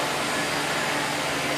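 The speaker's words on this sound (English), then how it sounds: "This is a roll-fed vacuum forming machine for high-volume production." A roll-fed vacuum forming machine for high-volume plastic production runs with a loud, steady broadband hiss and whir, constant throughout with no talk.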